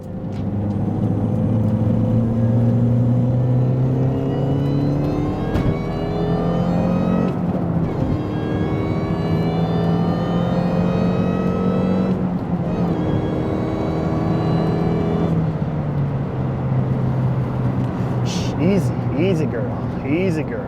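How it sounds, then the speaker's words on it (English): A 2005 MINI Cooper S with a supercharged engine revs and pulls through several rising gear runs while driving, its supercharger whine loud and close throughout. Someone talks over the engine. "Just listen to that supercharger."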